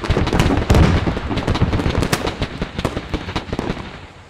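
Rapid, dense gunfire from the modded military shooter Squad in a Middle East invasion scenario: sharp, loud cracks and bursts pile up close by, then thin into scattered shots that carry on to the end.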